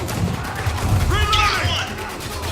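Ambush gunfire in Spec Ops: The Line, a steady dense battle bed of shots and crashes running the whole time, with shouted voices over it.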